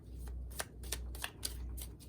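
Tarot cards shuffled by hand during a reading, a quiet close series of crisp riffling snaps repeating at a steady rhythm.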